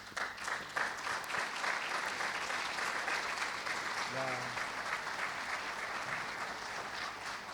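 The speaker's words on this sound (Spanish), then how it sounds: "lo recibimos con un fuerte aplauso" Strong audience applause welcoming a speaker at a cybersecurity forum opening, sustained crowd clapping with a brief voice and a low hum beneath it.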